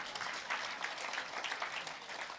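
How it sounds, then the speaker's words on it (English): Applause from a town hall forum audience in Kingston and St Andrew, fairly soft and distant, with scattered overlapping claps forming a steady patter throughout. "you can applaud if you want."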